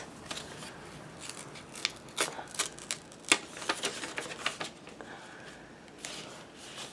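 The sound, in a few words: handling textured paper envelopes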